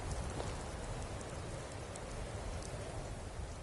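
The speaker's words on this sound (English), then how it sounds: "Rain again. Skyrim never tires of it." Steady rain hisses in the Skyrim video game, a dense, even wash of falling drops that stays constant throughout with no other sounds standing out.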